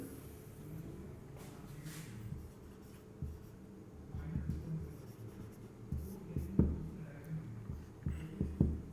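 Marker or chalk scratches and taps against a classroom board during a maths lesson, faint at first and then growing into clearer strokes and knocks, close by with a low room hum.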